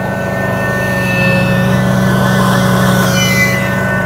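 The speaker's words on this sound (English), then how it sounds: "You can hear the vacuum screaming away right now." A Grand LX VMT carpet cleaning system's vacuum runs loud and close, a steady high whine over a deep droning hum that holds constant without talking.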